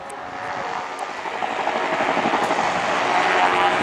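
An autogyro descends in autorotation at Blackpool Airshow, a helicopter-like rotor and engine roar, steady and fairly loud, building slightly as it draws nearer, with a broad whooshing wash throughout.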